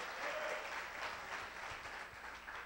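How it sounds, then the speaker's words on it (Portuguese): A church congregation applauds during a sermon in a steady, moderately faint wash of clapping that holds for the whole stretch, with no talk over it. "Posso ouvir um aplauso ao Senhor?"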